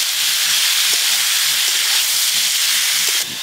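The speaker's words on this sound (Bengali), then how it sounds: "সবজিগুলো হালকা করে ভেজে নিয়ে" Vegetables lightly frying in oil for khichuri, a steady loud broadband hiss and sizzle running continuously with faint rhythmic low knocks underneath, no voices.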